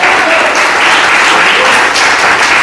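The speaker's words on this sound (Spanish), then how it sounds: "Denle un fuerte aplauso al Rey" A church congregation applauds during a sermon, producing steady, loud, dense clapping that fills the whole short stretch without a break.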